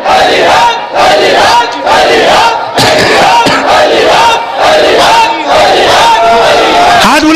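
Large crowd at a Shia majlis chanting the religious slogan Haidari in loud unison, repeated rhythmic shouts in several bursts, close and powerful.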